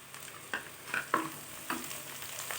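Sliced onions fry in a pan and are stirred as they brown for a tuna (choora) fish curry: a steady soft sizzle with several close scraping stirs of a spoon, without talk.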